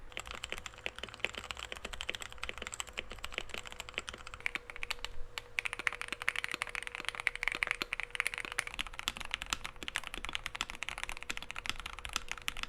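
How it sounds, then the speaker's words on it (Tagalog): Dense, continuous clacking of keys on an RK61 mechanical keyboard, close and steady throughout with no talking. "mas malinis or papino ang tunog ng mga keyboard katulad ng mga to"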